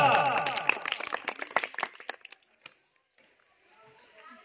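Schoolchildren in standard 1 to 4 break into quick, scattered clapping for a classmate's answer, a close burst that thins out and stops after about two seconds, leaving faint room noise.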